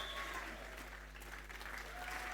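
Church congregation clapping hands during a bilingual worship service, a faint, busy patter of many hands over a steady low electrical hum, with indistinct voices mixed in.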